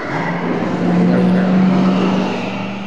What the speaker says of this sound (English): these cars will continue on their way